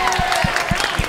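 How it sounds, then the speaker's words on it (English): An open-stage comedy audience claps in a few sharp, spaced beats, fairly close and moderately loud, with light crowd murmur behind. "Let's give it up for clapping."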